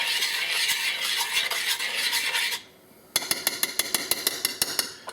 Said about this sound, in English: get it stirred up so it mixes with the butter.